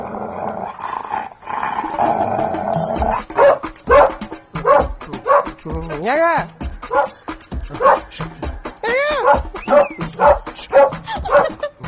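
A dog growls, then gives a run of whimpers and yips, loud and close, while a voice speaks briefly over the start.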